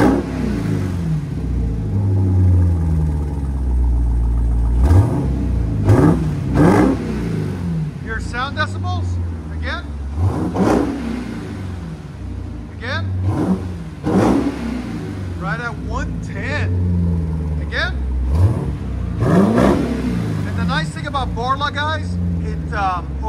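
A 2021 Jeep Trackhawk with a Borla Pro-XS exhaust revs repeatedly, its deep engine note swelling and dropping in several bursts while someone talks over parts of it.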